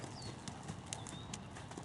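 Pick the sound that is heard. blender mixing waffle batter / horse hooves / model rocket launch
horse hooves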